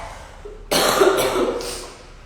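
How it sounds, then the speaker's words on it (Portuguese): A single sharp cough lands close to the microphone and trails into a short throaty rasp before fading. "tô com um pouquinho de tosse"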